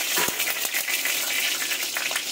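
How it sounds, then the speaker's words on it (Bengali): A bay leaf hits hot oil left over from frying paneer, producing a bright continuous hiss and crackle with a few sharp pops near the start. "এই যে একটা তেজপাতা আমি ফোড়ন দিয়ে দিলাম"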